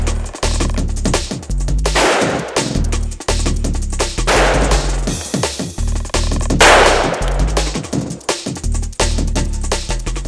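Large-bore .500 JRH revolver fired outdoors at a soda bottle, loud booming shots spaced a couple of seconds apart with ringing decay and no talking.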